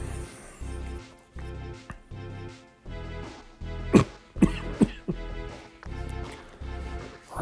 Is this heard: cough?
yes